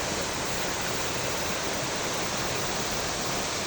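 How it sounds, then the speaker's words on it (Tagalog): Tinakayan Falls in Labrador, Pangasinan roars as a dense, loud, unbroken rush of falling water close by, with no voices over it. "Yan na yung falls."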